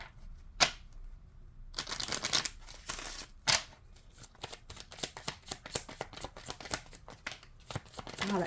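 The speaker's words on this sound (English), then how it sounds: "Let's shuffle." Tarot cards are shuffled by hand close up, with quiet, crisp riffling bursts and rapid flicking and sliding of the deck that repeat for several seconds.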